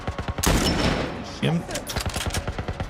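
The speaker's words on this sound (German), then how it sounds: "Da schießen wir auf alle Fälle mal." Rapid bursts of gunfire in The Last of Us during a sewer level, sharp repeated shots in quick rhythm with a short pause mid-way, loud and close.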